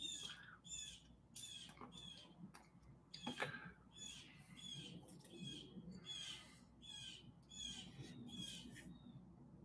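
Birds squawking outdoors in repeated harsh, shrill calls, fairly far off, over a steady background hiss with no talk.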